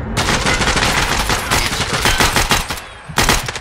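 Sustained rapid automatic gunfire from the first-person shooter Escape from Tarkov Arena, loud and close, with dense bursts of shots running almost without pause and a short gap before a final volley.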